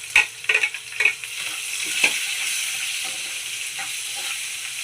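Onions and green chilies go into a hot pan after garlic, with a few sharp clattering stirs at first, then a steady, even sizzle of frying.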